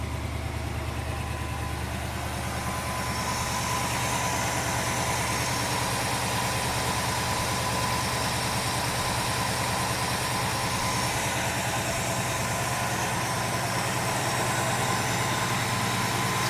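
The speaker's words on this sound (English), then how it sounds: "It's got the Pontiac 400 in it, and it runs really beautifully." A 1977 Pontiac Grand Prix SJ with its Pontiac 400 V8 idles steadily and smoothly, a deep low rumble that stays constant and close throughout with no talk over it.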